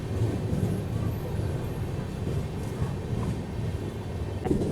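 A freight train loaded with rail track sections rolls past Pipli railway station on the Lakhabaval–Kanalus line during track doubling work, a steady close rumble of wagons that holds for the whole stretch.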